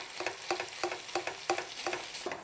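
Steamed fish being mashed in a pan over a low flame, a regular series of soft scraping, squishing strokes, about seven in quick rhythm, close and fairly quiet.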